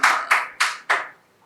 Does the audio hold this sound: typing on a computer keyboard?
no